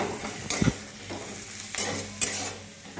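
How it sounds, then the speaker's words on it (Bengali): Onions with spices frying in a kadai, a close steady sizzle broken by a few scraping stirs and clinks of a spatula. "পেঁয়াজগুলো দিয়ে দিয়েছি কড়াইয়ে একটু মশলা দিয়ে বেশ টমেটো দিয়ে ঝাল দিয়ে আমি এখন করবো"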